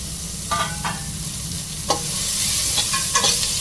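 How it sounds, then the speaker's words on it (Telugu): Carrots frying in a pan for bagara rice, a steady close sizzle with a few stirring scrapes of a spoon against the pan, no voices. "ఇది కూడా ఫస్ట్ ఫ్రై చేస్తున్నాను క్యారెట్ కూడా వేయిపోయింది కదా"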